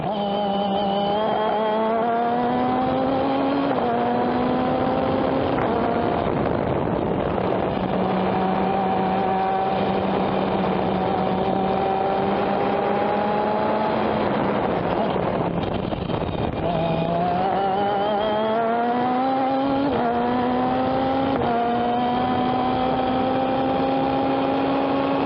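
A race car laps the Sonoma circuit in an SFR regional event, its engine note loud and sustained as it climbs and drops through gear changes, with wind buffeting the microphone throughout.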